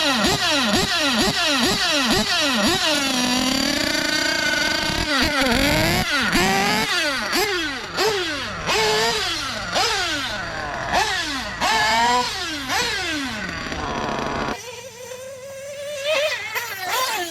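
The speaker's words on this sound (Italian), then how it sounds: "erogazione, sound esclusivo e bassi consumi sono le caratteristiche sulle quali Daniele ha fatto il suo focus per realizzare questa marmitta" A motorcycle engine fitted with a new IELASI TUNED exhaust revs hard again and again in quick, rising and falling bursts, loud and close, before settling to a rough idle near the end.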